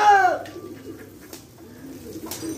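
Pigeons coo softly at an open-air roost as they fly in, with a clear coo at the start followed by quieter rustling and faint calls.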